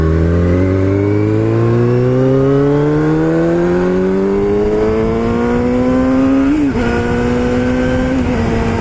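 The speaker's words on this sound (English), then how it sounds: "Wind noise, and also with the exhaust on this bike." A loud motorcycle exhaust rises steadily in pitch as the bike accelerates, with a constant rush of wind noise underneath and a brief gear change near the end.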